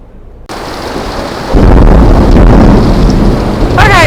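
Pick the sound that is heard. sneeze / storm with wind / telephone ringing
storm with wind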